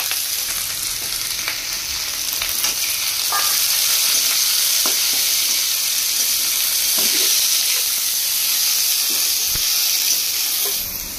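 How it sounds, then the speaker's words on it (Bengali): Chicken feet with chili being stir-fried in a pan, a continuous loud sizzle and hiss broken by occasional scrapes and knocks of stirring. "মরিচ দিয়ে দিলাম। এখন একটু নাড়াচাড়া করে নেবো।"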